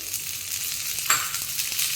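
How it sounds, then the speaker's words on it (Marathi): Sweet corn roasts with a little oil and salt on a tava griddle for a homemade pizza topping, giving a steady close sizzle with a brief clatter of stirring partway through and no talking. "मी आता जे स्वीट कॉर्न घेतलेले आहे पिझ्झासाठी ते थोडेसे किंचित तव्यावर भाजून घेणार आहे"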